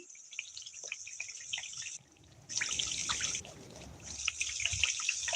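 Homemade ghee cooks in a pan with a quiet sizzling hiss and scattered small crackling pops. The sound dips briefly, then returns more strongly, with no talking.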